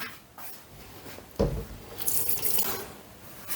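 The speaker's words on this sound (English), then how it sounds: "I'm just going to rinse these off in cold water." Cold tap water runs steadily over freshly peeled carrots in a home kitchen, a close, even hiss and splash that swells louder partway through, with no talking.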